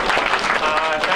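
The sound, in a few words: audience applause for award presenters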